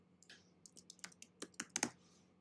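Irregular, quick keystrokes clatter on a computer keyboard, about a dozen soft clicks bunched over a couple of seconds, faint and close-up in an otherwise quiet room.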